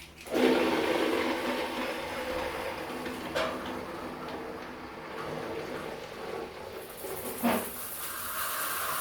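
Water running to fill a Lorenzetti Bella Ducha Ultra electric shower, a steady rushing hiss close by, broken by a couple of short knocks and clunks partway through.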